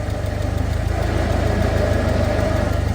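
A farm vehicle's engine runs close by as gas is given, a loud, steady, throbbing mid-pitched drone with a regular pulsing beat throughout.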